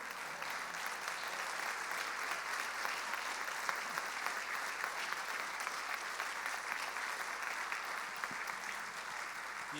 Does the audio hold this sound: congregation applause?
yes